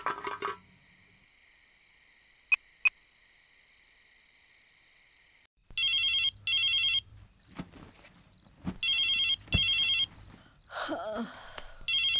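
An electronic phone ringtone chirps in repeated short bursts in a Tamil comedy scene, following a long steady high tone and a few clicks, with louder patterned rings toward the end and faint sounds beneath.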